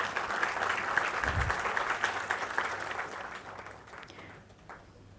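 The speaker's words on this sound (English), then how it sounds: "A big round of applause." Applause from a ceremony audience at a foundation day stakeholders meet, a steady wash of clapping that holds for several seconds and then gradually thins and fades.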